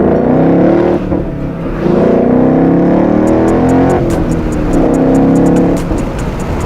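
A Ford Mustang running a Bama Rev-X tune revs with a loud, close engine drone that rises and falls over about six seconds, broken by brief dips, with a light whoosh of wind over the top.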